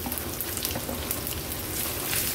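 Hot oil crackles and sizzles steadily in a close, continuous tempering of asafoetida and turmeric, with small pops scattered through the frying.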